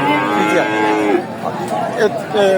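A cow moos loudly at a busy cattle market in Sirajganj, Bangladesh, one long drawn-out low call followed by shorter calls, with faint crowd chatter in the background.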